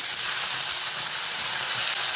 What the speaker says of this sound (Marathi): तर तेलामध्ये आता हे टोमॅटो घालूया